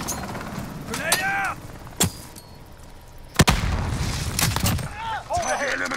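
Grenade explosion and gunfire in Call of Duty: Modern Warfare, with sharp, loud single shots and a heavy blast near the middle, separated by quieter gaps, under radio-style voices and talking.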